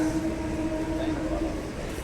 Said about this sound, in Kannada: ಈಗ ಪ್ಲ್ಯಾಟ್ಫಾರ್ಮ್ ನಂಬರ್ 3 ಬರ್ತಾ ಇದೆ ನಮ್ಮ ಟ್ರೈನ್